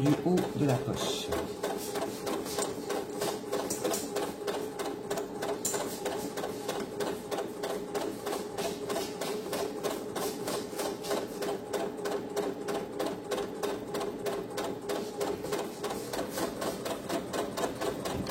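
A sewing machine stitches along the top of a fabric phone charger pouch, with a fast, steady mechanical chatter running continuously at close range while someone talks over it.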